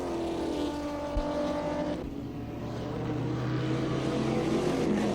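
A Grand Sport race car crosses the line at the end of a 1996 sports car race, its engine droning steadily with a pitch shift as it passes, over a broad roar of track background.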